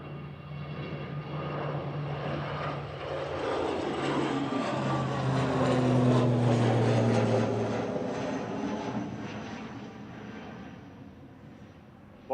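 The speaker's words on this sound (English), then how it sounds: "Here we go, noisy prop." A propeller airliner bound for Dublin drones past at Manchester Airport, its engine hum building to a peak midway and then fading as it moves away.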